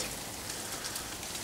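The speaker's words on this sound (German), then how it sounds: "Regnet ganz schön." Steady, dense rain pattering on a surface, a constant wash of noise with no pauses, fairly close and moderately loud.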